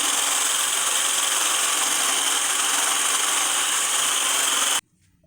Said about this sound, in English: Make sure to give it a very good whisk.